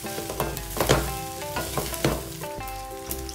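Kimchi fried rice with ground pepper and salt being stirred in a hot pan, a steady sizzle of frying with scraping spoon strokes at an irregular rhythm, close and clear with no talking.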